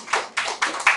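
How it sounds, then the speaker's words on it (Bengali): Audience clapping at a health talk, heard as four distinct, evenly spaced claps or clap bursts in a short rhythmic sequence, fairly close and crisp, with no speech over them. "জোরে একটা হাততালি চাই"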